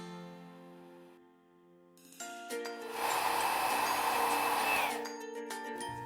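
A hair dryer blasts air over hair wrapped around a round brush, rising from quieter handling to a steady loud rush for a couple of seconds before cutting off, with small clicks around it.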